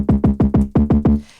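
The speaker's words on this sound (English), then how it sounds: "So I just have an 808." Deep 808 bass drum hits pound out six quick, evenly spaced booming notes, each with a pitched tail, ending in a short fading decay.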